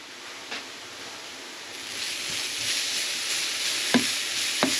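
Carrots sizzling in oil over low heat in a pan for a glass noodle stir fry with shrimp and bok choy, a steady close frying hiss broken by a few faint utensil clicks.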